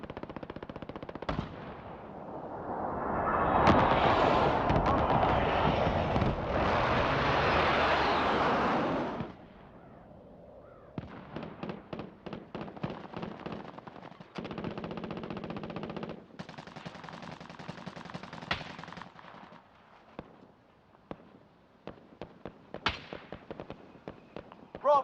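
Sustained automatic gunfire and explosions in a video game battle, with a loud roaring burst followed by rapid rattling volleys and scattered shots, dense and continuous throughout.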